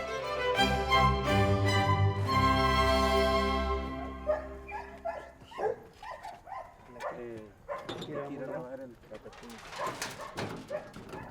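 Dogs at a stray dog shelter bark and yelp, with one long drawn-out howl or whine first and then a run of short close barks and yips.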